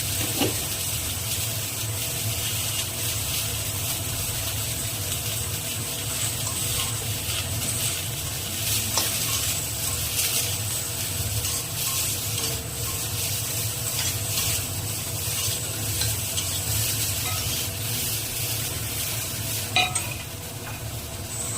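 Eggplant and potato frying in a pan with turmeric and salt, a steady, even sizzle that carries on unbroken with occasional stirring scrapes and no talk.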